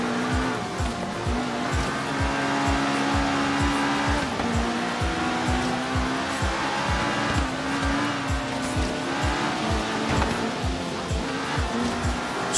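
A Ferrari race car revs hard while overtaking a Lamborghini, its engine note climbing and dropping through rapid gear changes with a steady rhythmic pulse, loud and close, with occasional tire squeal.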